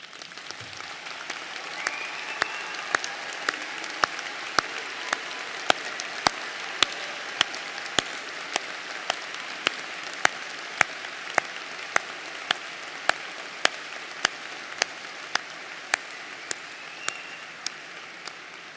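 Quiet, sustained applause at a university winter commencement honoring military personnel and veterans, many hands clapping at a distance with a few sharper nearby claps standing out in a regular pulse.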